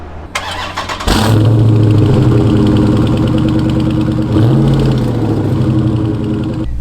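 A 2020 Dodge Charger Scat Pack Widebody engine cranks and fires up about a second in, then settles into a loud idle with a strong rev partway through, close up, in a garage.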